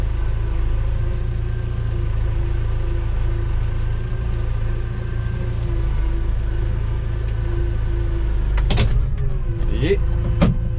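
A tractor engine runs with a steady, low, close-up drone while clearing manure, its wheels slipping on wet, muddy ground. A couple of sharp clunks sound near the end.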